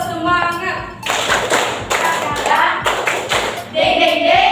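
A classroom group performs a rhythmic 'tepuk semangat' spirit clap, with bursts of patterned claps and taps in quick sequences separated by short pauses, loud and close, with voices chanting along.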